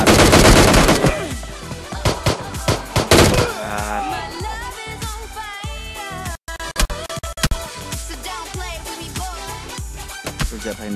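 Rapid automatic gunfire from PUBG, with dense bursts of loud shots and clattering impacts that thin out into scattered, irregular shots near the end.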